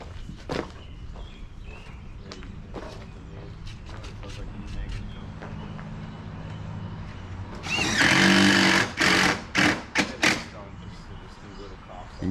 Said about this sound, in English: they're screwing off that outside corner from the roofing